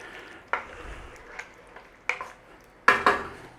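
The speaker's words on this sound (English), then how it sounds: "Give it a little stir around." Creamy chicken pot pie filling stirred in a pan, heard as a few sharp clinks and scrapes of a utensil against the pan, spaced irregularly and moderately close, with a faint low background and no speech.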